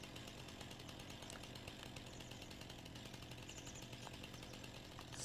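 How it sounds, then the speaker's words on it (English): A chainsaw cuts down a tree in the Farming Simulator 19 video game, a steady, buzzing engine whine that runs unbroken at low volume. "Let's go ahead and grab our chainsaw back out. Smash this tree down."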